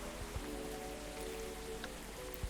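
Rain falls in the video game Coffee Talk as a soft, steady patter on a surface, quiet and continuous, with a few slightly sharper drops and faint sustained tones underneath.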